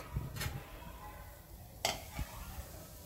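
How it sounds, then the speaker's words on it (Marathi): Peanuts frying in a pan, soft intermittent sizzling with a couple of sharp scraping stirs and light clinks of a utensil against the pan, close and fairly quiet. "व्यवस्थित आपले मस्तपैकी असे हे शेंगदाणे जे आहेत ते फ्राय झालेले आहेत"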